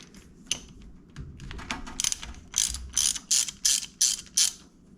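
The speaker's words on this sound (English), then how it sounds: "I'll take these bolts out now." A ratchet backing out bolts from the valve cover of a Honda CRF150R, rapid close clicking bursts that grow into a regular series of loud ratcheting pulls.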